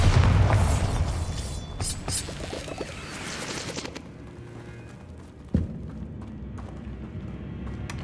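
Bombarda spell explosions from the Hogwarts Legacy video game: a heavy booming blast opens the clip and trails off into rumble, then a second sharp burst strikes partway through over a low ambient hum.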